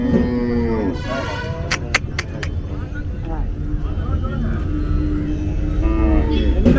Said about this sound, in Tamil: இது கண்ணுக்குட்டி.